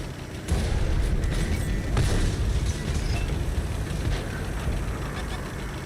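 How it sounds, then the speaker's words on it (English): Artillery in a video game fires, producing heavy, rumbling explosion booms that start abruptly and roll on in a dense, loud, continuous low roar with scattered sharper blasts. "Stupid artillery."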